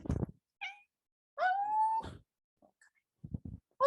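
Several distinct cat meows sound fairly close in a quiet room, with a brief one early and a longer drawn-out meow in the middle, followed by faint rustling and another short cry at the end.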